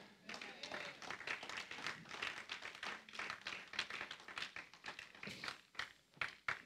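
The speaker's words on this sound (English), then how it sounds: "Clap them harder than that." A church congregation claps harder during a Wednesday Bible study service, a dense run of overlapping hand claps that continues for several seconds with some voices heard among them.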